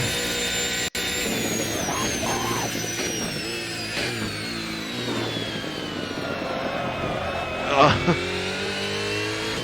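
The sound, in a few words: 1990s V8 touring car engines racing at Bathurst, video game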